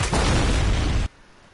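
A loud rocket blast in Fortnite, a dense roaring burst lasting about a second before cutting off sharply to a low rumbling tail.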